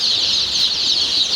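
A dense flock of hybrid Sonali chickens at a poultry farm makes a continuous, loud chorus of overlapping high calls, close by, with no pauses and no voices.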